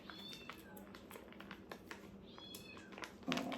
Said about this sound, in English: I'm sure you guys can probably hear my kitty.